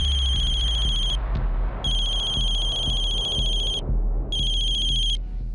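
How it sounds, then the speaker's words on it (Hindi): A mobile phone ringtone rings loudly in three repeated bursts with brief pauses between, over low background rumble and room noise. "तुम्हें जब भी इसका फोन आता है तुम फोन काट देते हो।"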